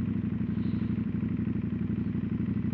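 A CFMOTO 800NK motorcycle engine runs at a steady idle, a loud, close, rapid pulsing throb with a slight clattery edge that the rider finds too loud, continuous and alone without speech.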